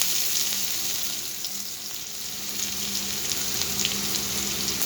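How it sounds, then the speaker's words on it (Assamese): Crushed garlic sizzles loudly in hot oil with five-spice, making a steady, close frying hiss that runs without pause and has no talking over it. "এতিয়া মই ইয়াতে থেতেলিয়াই থোৱা নহৰুখিনি দি"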